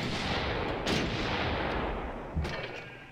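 Bursts of musket-style gunfire from a ranged unit attack in Sid Meier's Civilization V, a few crackling volleys with heavy booms, loud and close, no talking.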